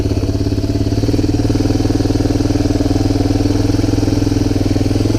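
A Honda TRX250 ATV, a cheap barn find repaired for its first ride, runs with a loud, close, steady single-cylinder thrum, its rapid even firing pulses unchanging throughout, with no speech.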